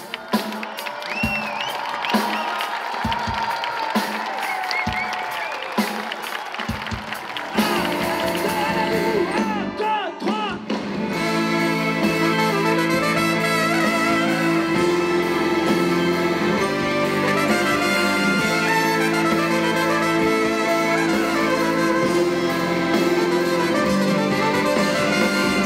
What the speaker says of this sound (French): Je voudrais que vous fassiez une sorte de bombe d'applaudissements s'il vous plaît